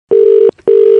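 Telephone ringback tone heard over a phone call: two loud, steady electronic tone bursts separated by a short gap, with no talking.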